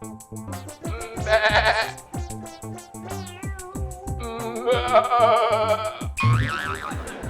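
A person imitating a goat's bleat, wavering nasal cries repeated several times, loud and close, with a strained, quavering tone.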